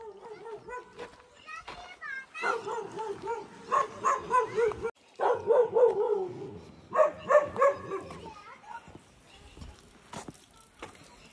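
A dog barks outdoors near Jim Corbett in Nainital, Uttarakhand, in a burst of repeated loud woofs, with children's voices and other talk around it.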